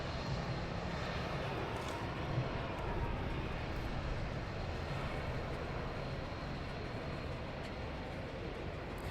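An aircraft taxis at London Luton Airport, giving a steady broad engine roar at moderate distance that holds even throughout.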